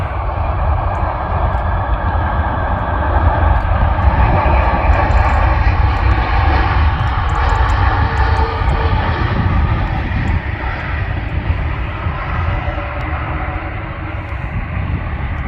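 Jet airliner landing at Manchester Airport in winter weather, a loud sustained engine roar with rushing broadband noise, steady and close, holding strong for the whole passage without voices.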